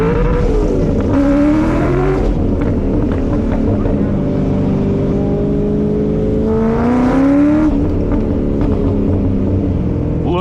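Classic race car at a classic car festival, its engine revving hard through a first-gear pull, two rising roars over a loud, continuous engine drone, close by with crowd noise behind.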